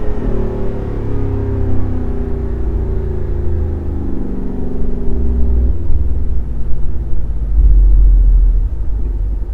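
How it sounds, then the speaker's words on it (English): A Jeep Wrangler 392 V8 pulls through gear changes while driving, a loud, close, continuous engine rumble with rising and falling tones as it shifts, heard from inside the cabin. "You'll get that glorious sound in between gears when it's shifting."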